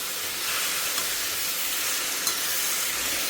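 Coriander leaves and stems sautéing in a pan give a steady, broad sizzling hiss, continuous and close, with a couple of faint clicks of stirring.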